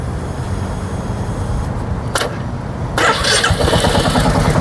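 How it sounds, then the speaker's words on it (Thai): A Royal Enfield Meteor 350 single-cylinder 350cc motorcycle engine cranks briefly and then catches, settling into a steady, close thumping idle. "1สูบลูกโต350ซีซีมาฟังเสียงเครื่องยนต์ครับผม"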